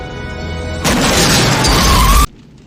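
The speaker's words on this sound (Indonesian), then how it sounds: "cop berhasil masuk ke wilayah kekuasaan Ken, tak lama kemudian mobil yang ia kendarai meledak." A car explodes in a Robocop movie scene, a sudden loud burst of blast noise that roars for about a second and a half and then cuts off abruptly into quiet.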